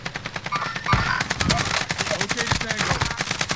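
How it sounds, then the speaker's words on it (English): Sustained rapid automatic gunfire from Call of Duty: Modern Warfare, loud and close, a dense rattling stream of shots with a few heavier bangs, faint voices mixed underneath. "I'm taking fire here."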